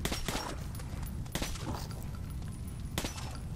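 Shotgun fire in Metro 2033 Redux, heard as a few loud booming blasts over a dense, noisy game soundscape.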